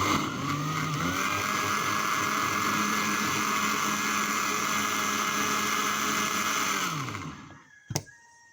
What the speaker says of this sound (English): Time to mix a blend again.